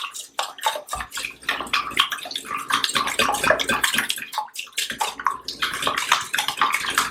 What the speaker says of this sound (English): I'm going to get those cracked and whisked together.